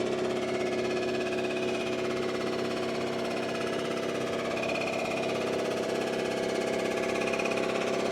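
A Rottler engine machine cuts metal in a machine shop, giving a steady, dense mechanical whine and hum with no pauses, continuous and fairly loud throughout.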